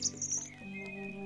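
A pet bird named Cheep Cheep in The Book of Unwritten Tales gives a short burst of high, bright chirps at the start. Soft game music continues underneath.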